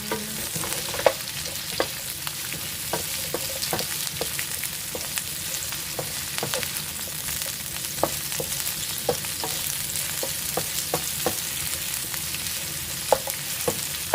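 Carrots stir-fried for squid and pork bulgogi sizzle steadily in a hot pan, with a continuous frying crackle broken by frequent sharp clicks of a utensil scraping and tossing the pieces, close and fairly loud with no talking.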